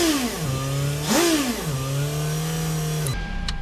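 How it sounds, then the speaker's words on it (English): A 2005 Toyota RAV4 engine idles steadily after starting, with one brief rev that rises and settles back to a smooth, even hum, loud and close, before cutting off near the end. "I'm going to be starting up my vehicle. Now it's running really smooth."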